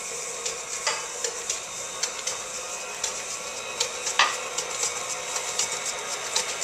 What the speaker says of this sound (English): And you're going to blend this until smooth.